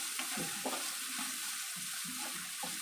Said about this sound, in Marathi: कांदा मस्त मस्तपैकी परतून घेणार आहोत तेलामध्ये